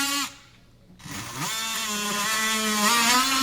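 Power tool cutting drywall to fit a receptacle box, a loud steady motor whine after a brief quiet gap, rising in pitch as the cut goes on.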